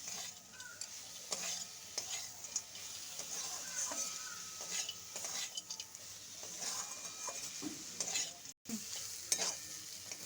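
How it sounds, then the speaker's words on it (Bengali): Fried, peeled peanuts are stirred into red spinach frying in a pan, with a soft continuous sizzle under repeated spatula scrapes and light clinks, close and quiet with no talking. "এবার দিয়ে দিচ্ছি বাদাম, মিশিয়ে নেব লাল শাকের সঙ্গে।"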